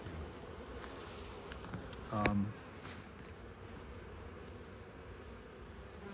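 Honey bees hum in a steady, faint drone from an opened hive during an inspection, with one brief closer buzz partway through.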